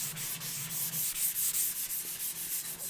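Close, brisk back-and-forth strokes of sandpaper rubbing a Dandadan cosplay prop by hand, in a steady rhythm of about three strokes per second, with no speech.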